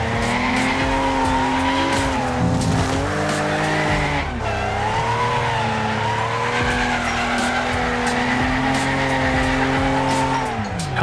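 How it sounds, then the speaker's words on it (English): Car engines and squealing tires in the demolition racing game Wreckfest, with a car set up on a fully open differential: a loud, steady engine drone wavering in pitch alongside continuous skidding and tire squeal. "Can't imagine why my car is making so many noises."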